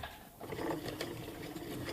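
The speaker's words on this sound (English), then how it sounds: "the machine is again gonna do the sew up first" A sewing machine stitches a practice seam with a steady, close mechanical whir and faint rhythmic needle ticking, heard alone.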